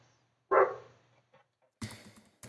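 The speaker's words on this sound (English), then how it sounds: "it barks every time someone comes up the neighbour's driveway as well" A dog barks at someone coming up a neighbour's driveway: one loud, close bark followed after a pause by another bark, with a faint quieter yelp between them.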